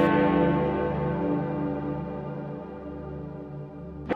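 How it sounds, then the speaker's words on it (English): Deep bells ringing with a long sustained resonant tone full of layered overtones, loud and alone, slowly decaying over several seconds. "I've always hated the bells."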